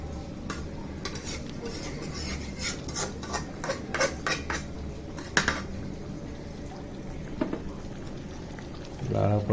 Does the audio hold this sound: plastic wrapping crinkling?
no